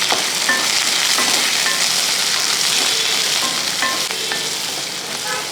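Sliced onions and curry leaves fry loudly in a pan for a Kerala eggplant dish, a dense, continuous sizzle broken by occasional scrapes of stirring.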